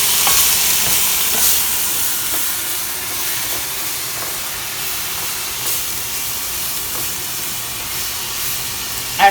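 Steady sizzling and hissing from green beans stir-frying in a pan with added water aboard a boat, with occasional faint stirring scrapes and a brief clink at the end.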